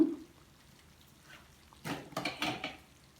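Chicken being stir-fried in a dry pan, with a few scraping, clattering stirs of a utensil against the metal, brief bursts against a quiet background.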